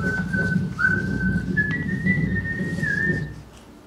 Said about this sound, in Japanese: 風が吹く中で口笛を吹く音